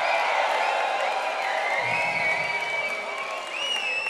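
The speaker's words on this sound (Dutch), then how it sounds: "Maar ik wil nu alvast een warm applaus voor iedereen die dit gala mogelijk maakt." Warm applause fills a New Year's gala hall for the staff, a dense, steady wash of clapping from a large crowd with scattered whoops and cheers rising over it throughout.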